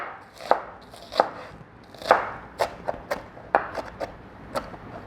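A knife chops red onion into small pieces for a radish and cucumber salsa, giving about ten crisp, close, irregular strikes with no talking.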